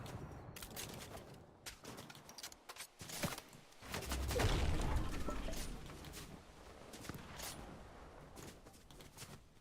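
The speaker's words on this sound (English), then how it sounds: "Where's that gunfire coming from?" Gunfire in the Fortnite video game, sharp rapid shots in irregular bursts with a brief dense volley midway, fairly quiet and mixed with game sounds.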